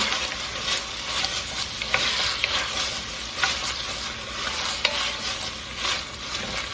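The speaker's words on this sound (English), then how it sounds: "and then the herbs, thyme and laurel leaves or bay leaves, and just saute them" Thyme and bay leaves sautéing in a pan, a steady close sizzle with occasional stirring scrapes and faint clinks, continuous and moderately loud with no talk.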